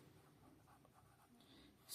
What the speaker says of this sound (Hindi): यहाँ पर लिखेंगे सबसे पहले